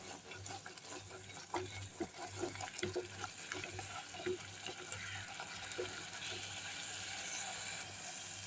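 Tomatoes sizzle softly in hot oil up close while a spoon stirs and scrapes the pan in irregular strokes for a Tamil vada kara kuzhambu, with no one talking.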